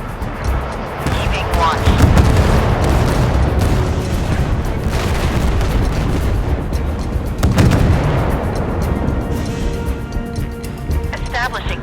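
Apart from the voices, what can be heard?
warship guns firing in video game Force of Warships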